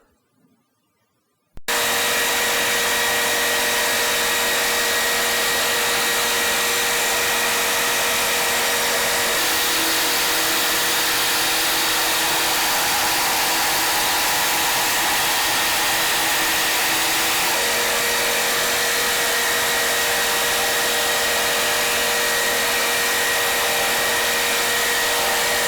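Jigsaw cutting a scrap piece of wood on a dustless jigsaw table, a steady loud motor whine with a buzzing blade that starts abruptly after a quiet moment and runs unbroken, with slight pitch shifts midway.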